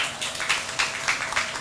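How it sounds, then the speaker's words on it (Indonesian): An audience at a dramatic reading and talk show claps for a novelist, a short burst of scattered applause with individual claps standing out, fairly close and without speech. "Tepuk tangan dong buat Mbak Lela."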